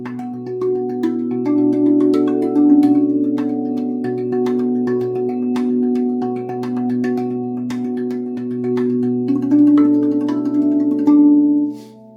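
Steel tongue drum notes struck on the rib ring out in a steady, overlapping melody, bright struck tones sustaining into a warm, continuous shimmer with no voices.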